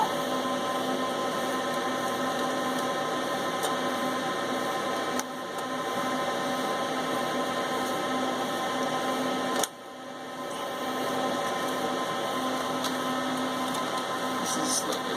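Angle grinder cutting through a GTX 660 OC graphics card, giving a loud, continuous high-pitched motor whine with strong tonal harmonics that dips briefly twice, close and steady throughout, with no speech.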